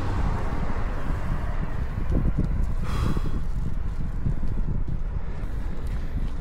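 Steady wind roar buffets the microphone throughout while cycling uphill on a long 200 km audax ride in Batangas, loud and continuous with no talk.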